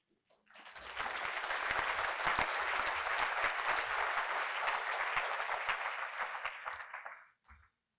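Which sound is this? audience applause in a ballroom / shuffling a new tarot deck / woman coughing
audience applause in a ballroom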